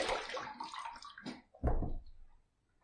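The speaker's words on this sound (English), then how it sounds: "Let's rinse." A safety razor is rinsed under running water, with a short splashing gush, a brief clunk and a second burst of flow, close and then falling quiet.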